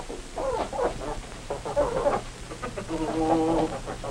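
Chickens cluck in bursts of several close, overlapping calls, with a rooster among them in a farmyard, a busy, continuous flock chatter.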